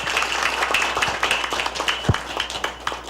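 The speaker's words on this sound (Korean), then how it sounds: "정말 항상 노력해 주시는 우리 오영훈 의원님께도 뜨거운 박수 부탁드리겠습니다." Applause from an audience at a summit meeting of junior college presidents, a scattered burst of clapping that holds steady for a few seconds in a hall, moderately loud with no voices over it.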